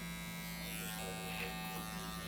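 Electric trimmer lining up a beard, a steady close buzzing hum, low in level and continuous throughout.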